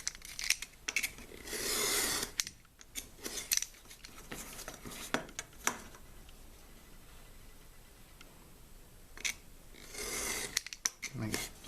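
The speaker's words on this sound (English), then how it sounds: "we're just going to use the steel ruler here and cut out" A craft knife is drawn along a steel ruler, slicing through a card sheet for a tabletop-wargame terrain building: repeated short rasping strokes in bursts, close and fairly quiet, with pauses between cuts.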